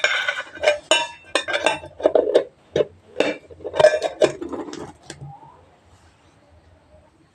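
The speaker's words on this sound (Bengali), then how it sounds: "আমি ঢাকনাটা আবার খুললাম" A lid comes off a cooking pot of steamed eggplant with a scatter of close metallic clinks and rattles, then fades into quiet.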